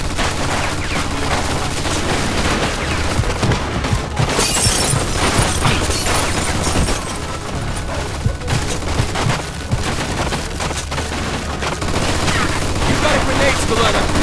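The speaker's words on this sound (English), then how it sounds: "Looks like we found a machine gun." Rapid machine gun fire and scattered gunshots in a firefight in the video game Mafia II: Definitive Edition, with loud sustained bursts, booms and shattering impacts, and voices shouting amid the gunfire.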